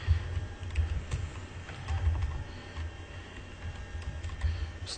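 Fingers tap out an address on a computer keyboard in quick, uneven bursts of close clicking keystrokes, with no talk over them.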